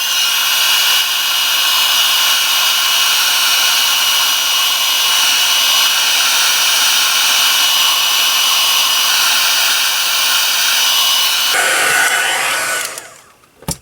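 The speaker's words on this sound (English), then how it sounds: "now I'm going to turn the heat tool on again because I want to dry that" A papercraft heat tool blows loudly and steadily for about twelve seconds, drying glue on a mixed media card, then clicks off and its whir fades away.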